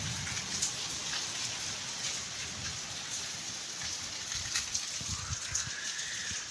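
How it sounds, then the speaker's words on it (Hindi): Steady rain patters down in a dense, even hiss, with scattered drops tapping close by and no voices. "डाढ़ी बारिश है डाढ़ी"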